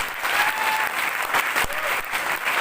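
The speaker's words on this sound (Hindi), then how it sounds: "एक बार जोरदार तालियां उनके लिए।" Seminar crowd in Kota gives a hearty round of applause for a mentor, dense continuous clapping with faint voices mixed in.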